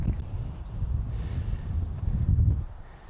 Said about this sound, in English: Very, very windy out.